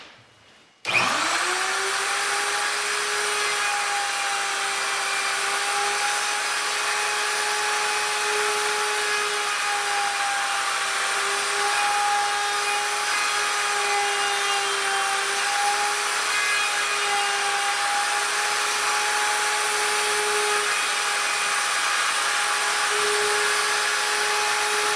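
A router cuts a hinge pocket in a door with a template: after a brief quiet start the motor whines up and holds a loud, steady high-pitched drone for the whole stretch, with no talk.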